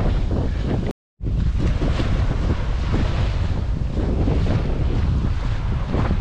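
Strong wind buffets the microphone on an ocean beach while surf rolls in close by. The roar is loud and continuous, with one brief dropout near the start.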